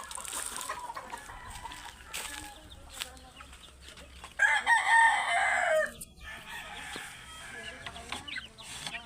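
In a small backyard coop, chickens and roosters cluck throughout, and one loud, close rooster crow breaks out midway over the softer background clucking.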